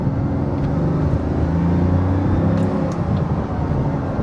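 A Bugatti Veyron hypercar engine accelerating from inside the car, a loud steady rumbling drone with a rising whir throughout.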